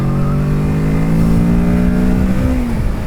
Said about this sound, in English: this bike has got plenty of power for overtakes, and that was in third gear as well.